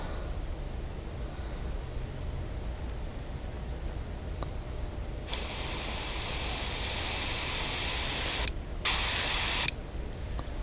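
Two bursts of hissing spray from a nozzle while painting a fishing lure, a long one then a shorter one after a brief pause, close and loud over a low background hum.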